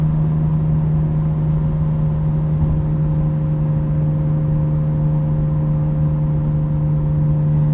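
A 1999 Nissan Skyline R34 GT-R twin-turbo cruising, its exhaust giving a constant low, droning hum heard from inside the cabin, steady and unchanging, with road noise underneath and nobody speaking.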